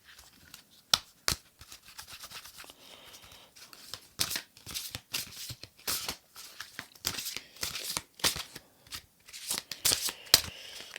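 Close, dry riffling and slapping of an oracle card deck being shuffled, in quick irregular bursts with short pauses, with no talking.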